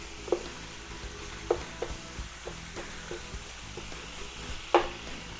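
Two pounds of Wagyu beef ribeye cook on a griddle for an expensive Philly cheesesteak, giving a low steady sizzle with occasional sharp scrapes and taps of a spatula, fairly quiet and without talk.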